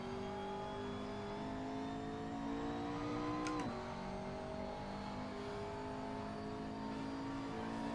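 A McLaren engine in a racing video game hums steadily at a sustained drone, with a brief rev and a quick gear-shift dip midway, then settles back to a constant tone, no talking.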